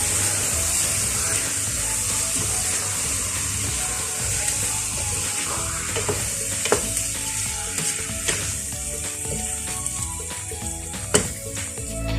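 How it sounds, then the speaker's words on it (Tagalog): Chicken and vegetable ingredients for maqluba are stirred and mixed with salt in a sizzling pan, a steady frying hiss with scattered scraping and clinking of the utensil. "Mix lang natin siya."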